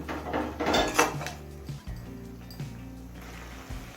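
A metal lid clatters onto a cooking pot of cauliflower-stalk curry on a high flame, with a few close clinks and scrapes early on followed by a low steady hum.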